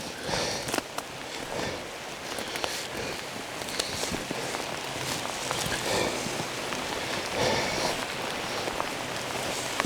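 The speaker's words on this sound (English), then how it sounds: "Yeah, good steady rain." Steady rain falls on public land during a September elk hunt, a continuous close patter of drops hitting surfaces, with a few soft rustles and footstep-like sounds mixed in.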